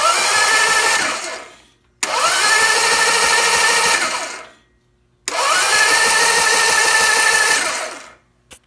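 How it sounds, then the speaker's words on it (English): A vintage British motorcycle's electric starter cranks the engine three times, each a loud, steady whirring churn lasting about two seconds, separated by short silent gaps. "I'm going to reach over and press the starter switch, and we'll see what happens"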